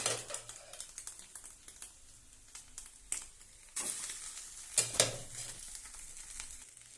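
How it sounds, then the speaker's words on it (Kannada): Oil sizzling and frying in a pan on low heat while egg rice is cooked, with a quiet crackle and several louder bursts of sizzle as ingredients are stirred in. "ಈಗ ಉರಿನ ಕಮ್ಮಿ ಕೊಡ್ಕೊಂಡು ಎಣ್ಣೆ ಹಾಕಬೇಕು"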